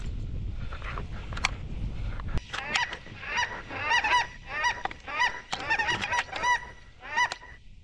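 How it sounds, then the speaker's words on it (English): Several geese honk repeatedly in a loose, overlapping chorus, fairly close, after a brief stretch of low rumbling noise at the start. "Big old geese."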